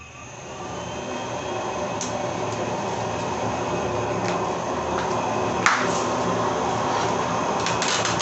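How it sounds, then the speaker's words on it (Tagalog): A blower hums on with a steady broadband rush of air that settles into a constant drone, with a few faint clicks over it. "Then bubuksan na po natin yung blower."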